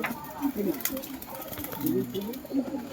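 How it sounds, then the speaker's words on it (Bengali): Andhra pigeons coo softly nearby in a series of low, throaty bursts repeating every second or so, with faint rustling and background noise around them. "দেখুন পায়রাগুলো আপনারা"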